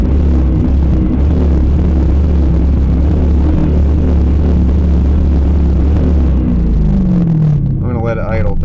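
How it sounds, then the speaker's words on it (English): A car engine is snapped open on the throttle during an oxygen-sensor test, giving a sustained loud engine roar that winds down near the end, with someone talking over it. "I'm going to snap throttle from in here."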